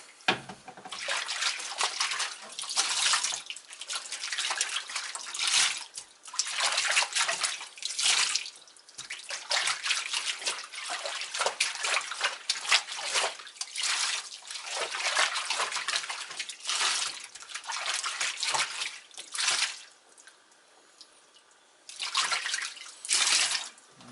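Water sloshes and splashes steadily as a foam air filter from a Briggs and Stratton mower engine is washed by hand with dish soap, in repeated bursts of wet squishing that pause briefly near the end.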